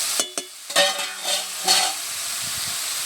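Spiced fish and vegetable mixture frying in a pan, a few scraping stirs with a spoon in the first two seconds over a soft hiss of oil that carries on steadily afterward, close by with no voices.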